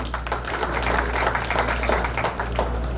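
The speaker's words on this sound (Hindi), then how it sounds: "अभिनंदन वंदन नमन, तालियों से स्वागत" An audience at a government school scholarship function claps steadily to welcome the chief guest, a dense, even round of applause with a low hum underneath.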